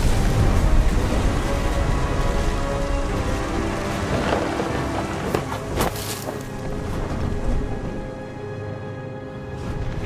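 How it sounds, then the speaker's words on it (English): Heavy rain pours in the video game What Remains of Edith Finch, a loud steady wash with low rumbles of thunder rolling through the middle, no voices. "Thunder sounded much too close and full of angry power."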